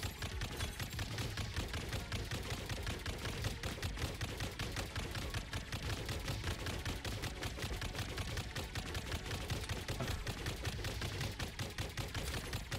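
Continuous rapid-fire weapon shots from shooting enemies in the co-op video game Neon Sundown, a dense steady stream of loud repeated blasts over a low rumbling backdrop for the whole stretch.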